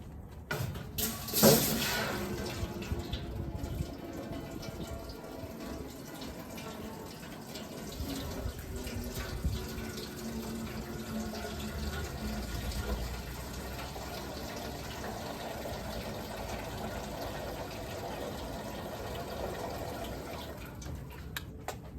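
Maple sap is poured into a pot for boiling down to syrup, a steady gushing, splashing stream of liquid that runs continuously at moderate loudness.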